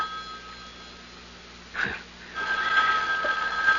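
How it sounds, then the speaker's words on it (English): A telephone bell ringing in an old-time radio mystery drama, a sustained, moderately loud ring that starts after a short gap and keeps going. "The phone."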